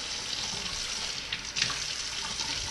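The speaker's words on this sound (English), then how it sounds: "I guess I'll turn the water off when I don't need it." Tap water runs steadily from a faucet while the inside of a Tippmann A-5 paintball marker is polished, a constant close hiss with a brief splashing surge partway through.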